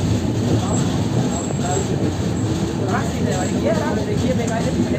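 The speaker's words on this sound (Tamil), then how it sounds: "ட்ரெயின் வந்து மலை மேலே போயிட்டுருக்கு." A train climbing a hill rumbles steadily along with a constant rolling roar, while voices talk over the noise.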